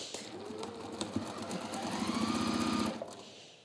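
A sewing machine runs in short bursts and then a longer steady stretch, stitching the seams of a zipper tote, fairly quiet and close with no voices.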